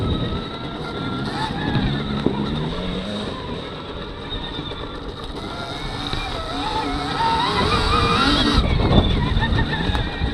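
Stark Varg electric motorcycle ridden slowly over a trail with small roots, its steady electric whine and drivetrain noise continuous and close, with rustling terrain sounds and wind buffeting the microphone throughout.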